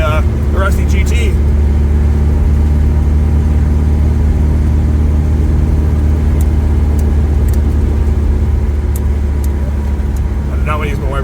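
A 1990 Volvo 245 accelerates in fifth gear, giving a steady loud engine drone with low rumble and road noise inside the cabin, and someone talks over it.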